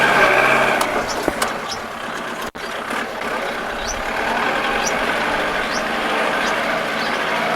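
A used Kubota tractor's four-cylinder engine runs at a steady idle, a continuous mid-range drone heard close, with a few sharp clicks early on and faint talk in the background.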